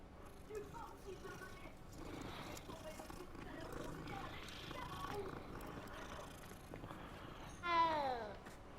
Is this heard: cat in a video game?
yes